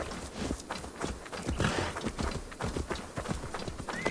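Horse hooves clip-clop at a steady walking rhythm in Assassin's Creed Valhalla, close and continuous throughout, with dense game ambience beneath and no speech.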